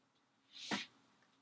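A single sharp sneeze bursts out close by, brief and breathy, in an otherwise quiet room.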